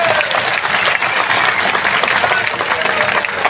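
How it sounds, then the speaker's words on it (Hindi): A large crowd at a political rally breaks into loud, sustained applause, thick and continuous clapping held close and strong throughout, with cheers and voices blending into the noise. "ताली बजे तो जोर से बजे भाई।"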